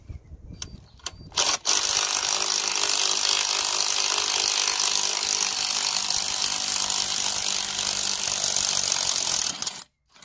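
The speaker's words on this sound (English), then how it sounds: "just gonna remove the clamp now" A coil spring compressor clamp comes off a Peugeot 207 front strut after a new coil spring is fitted, making a loud, continuous grinding mechanical whir for several seconds that stops abruptly.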